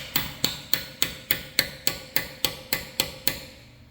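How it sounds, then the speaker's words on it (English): A socket is smacked onto a swollen lug nut in about eleven sharp, evenly spaced metallic strikes. Each one rings briefly and decays before the next, close and clear, with no talk. "So you take your socket, you smack it on."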